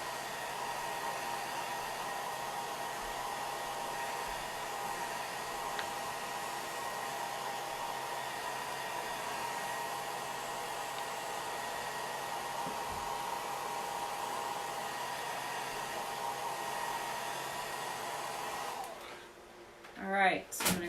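A hair dryer blows a steady, even whir at close range while drying a layer on a pumpkin craft, then cuts off near the end, followed by a few handling knocks.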